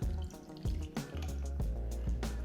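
Rum poured from a jigger into a glass makes soft splashing and dripping sounds, close and faint, with a few small distinct pours and trickles.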